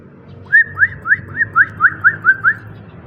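A small bird foraging for food gives a run of about nine clear, evenly spaced whistled calls, each a short rising note, loud and close over a low background hum.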